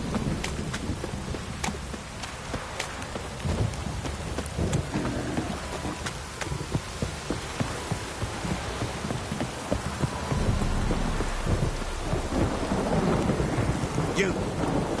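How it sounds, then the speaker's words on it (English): Heavy rain pours steadily with rumbling thunder rolling underneath in The Witcher 3: Wild Hunt on PS5, dense and continuous, growing slightly louder near the end. "This downpour's a bastard,"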